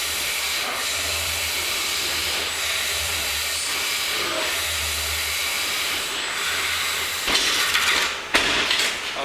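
A turning tool scrapes wood on a lathe while a stool leg or base spins, a steady broadband hiss with a low hum underneath, growing louder and rougher with a few sharper bursts near the end.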